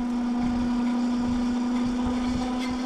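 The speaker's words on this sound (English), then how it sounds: "As far as the way it sounds like the motor is definitely working pretty hard right now." Tower Beach Bum 2 electric cruiser bike motor working hard while riding. It gives a steady, unbroken hum at an even pitch for the whole stretch, with low road rumble underneath.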